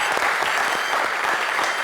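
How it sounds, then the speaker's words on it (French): An audience claps continuously and densely, a steady wash of applause at a live show event, with no voices standing out. "on l'applaudit s'il vous plaît"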